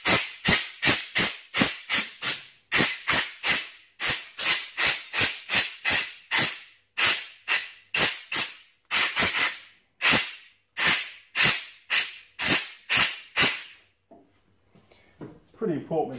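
Compressed air blasts out a front brake caliper body on a Honda CRM250 in rapid, loud hissing bursts, about two dozen short puffs in quick succession, then a quieter tail of faint rustling.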